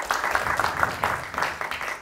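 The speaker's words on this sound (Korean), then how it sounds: "일단 박수 한번 주세요" Audience members at a fathers' parenting talk concert clap in a short, moderate burst of applause, with faint voices mixed in.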